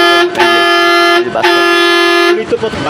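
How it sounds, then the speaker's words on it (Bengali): A loud hydraulic horn on a CNG auto-rickshaw blares in long sustained blasts, briefly broken twice, close and overpowering. "এই যে হাইড্রোলিক হর্ন বাজার"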